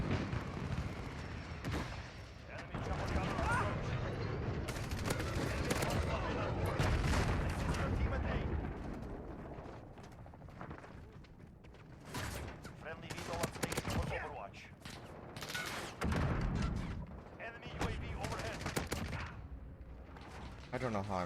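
Loud sustained gunfire and booming explosions from a cruise missile strike in the Modern Warfare beta, with dense bursts of shots through the first half and more scattered blasts later, under frequent talk.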